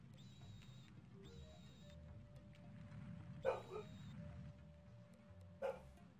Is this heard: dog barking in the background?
yes